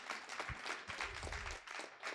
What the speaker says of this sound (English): Go ahead, clap for yourself.